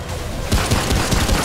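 Gunfire from a shooter in Remnant: From the Ashes, aimed at floating orbs during a boss fight: a steady, dense barrage of rapid shots. The firing begins about halfway through and continues loudly over a constant background.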